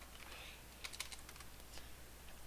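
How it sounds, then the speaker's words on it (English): Quiet keystrokes tap out a short command on a computer keyboard, a brief run of soft clicks under a steady low hum, with no talking. "we are going to type show options"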